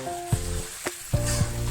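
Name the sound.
marinated chicken stirred with spices in a frying pan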